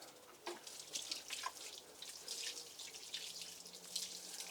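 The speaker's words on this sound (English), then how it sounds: "just giving everything a quick watering" A steady stream of water splashes onto plants and soil at an allotment, a continuous close wash of spray with small uneven surges and no voices.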